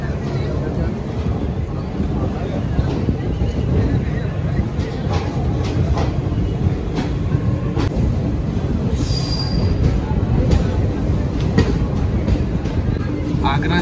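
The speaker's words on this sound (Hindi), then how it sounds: "5 मिनट के हॉल्ट के साथ मथुरा से हमारी ट्रेन निकल चुकी है।" The Garib Rath Express pulls away from Mathura station, its wheels rumbling and clattering steadily on the rails with occasional faint squeals, heard loudly from inside the coach.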